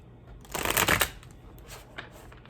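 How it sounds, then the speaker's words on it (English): A quick riffle of cards being shuffled nearby, a short crisp burst lasting about half a second, then quieter handling. "Let me get a shuffle for your person's energy."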